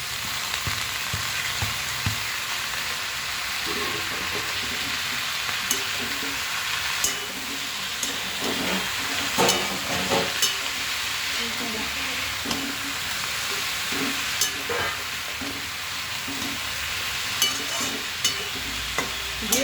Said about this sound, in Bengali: মশলার সঙ্গে গুগলি আলু সব দিয়ে ভালো করে কষাবো